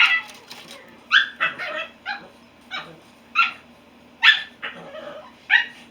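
Small dogs yip and bark in short, high-pitched bursts, about a dozen calls spread irregularly, fairly close, with faint whimpering between them.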